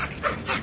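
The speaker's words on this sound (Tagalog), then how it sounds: "Ang ingay ng aso ko." A dog lets out two or three quick, close yips and barks in rapid succession, sharp and brief.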